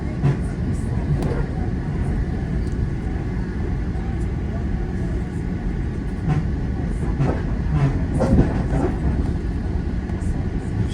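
A train rolling along a busy four-track railroad in Toronto, a continuous loud rumble with intermittent wheel clacks and some talking over it.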